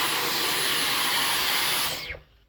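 A Dyson V15 Detect cordless stick vacuum with a crevice tool cleans up high near a ceiling. It gives a loud, steady whirring whine that abruptly winds down and cuts off near the end.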